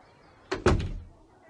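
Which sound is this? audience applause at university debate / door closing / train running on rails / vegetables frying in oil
door closing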